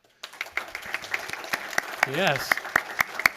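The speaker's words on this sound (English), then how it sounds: "Let's have another round of applause for our all-state musicians." Scattered, sparse clapping from a school board meeting audience honoring all-state student musicians, individual claps spaced out unevenly, with a brief voice speaking partway through.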